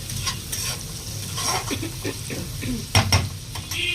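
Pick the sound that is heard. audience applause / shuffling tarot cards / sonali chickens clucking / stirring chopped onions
stirring chopped onions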